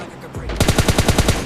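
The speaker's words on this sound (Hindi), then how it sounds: "मैं उन पर फायर करता हूँ" Loud automatic gunfire in the mobile battle royale game PUBG Lite, a rapid even burst of about nine shots fired in quick succession right after a short lead-in.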